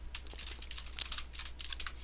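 Rapid keystrokes on a computer keyboard while Python code is entered, a steady close patter of light clicks with no pauses over about two seconds.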